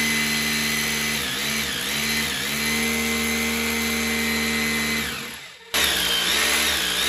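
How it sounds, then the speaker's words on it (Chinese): Impact drill fitted with a 10 mm bit boring into concrete behind wall tile, a loud sustained whine that rises and falls as the trigger is worked, briefly cutting out near the end before resuming. "让大家听一听我这个电钻的声音是否还是那么清脆"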